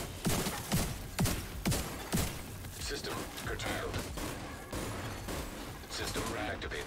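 Turret machine gun in The Division 2 hammers out rapid bursts of gunfire, with heavy thumping shots early and a dense, sustained rattle afterward, mixed with other game combat noise and people talking over it.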